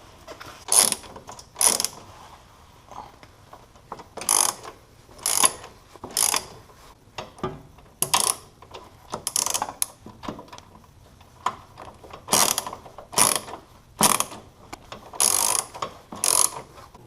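A ratchet wrench tightens bolts on a winch mount for a RZR, with repeated short clicking ratchet strokes coming in quick pairs and bursts, close and crisp over a quiet background.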